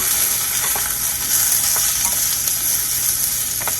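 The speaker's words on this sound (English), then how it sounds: "So just saute those a little bit" Vegetables including portobello mushrooms sauté in oil with a loud, even sizzling hiss and a few faint stirring taps, close up and without talk.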